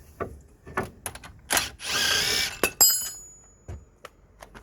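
An impact wrench undoes the front brake bolts on a Nissan Micra K13 with one sustained, close burst of about a second, surrounded by scattered metallic clinks and knocks from handling tools and parts.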